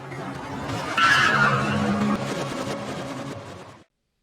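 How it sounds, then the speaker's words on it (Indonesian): A car skids and crashes during the inverted highway chase scene from the film Tenet, played in reverse: a dense, loud roar of tire and body noise swells near the start, then holds steady before cutting off abruptly. "Adegan dimulai dari detik mobil protagonis dari masa lalu yang inverted mengalami kecelakaan dan terbalik."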